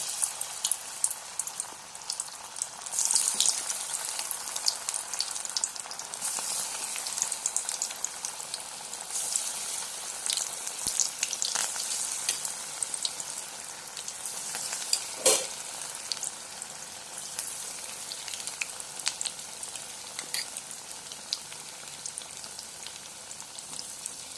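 Steady oil sizzling and crackling as raw banana kofta balls fry, a continuous bubbling hiss with occasional sharper pops, close and moderately loud.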